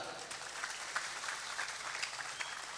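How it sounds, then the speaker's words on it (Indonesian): A crowd applauds steadily, a dense wash of many hands clapping at moderate volume throughout, with no voices standing out. "Boleh tepuk tangan."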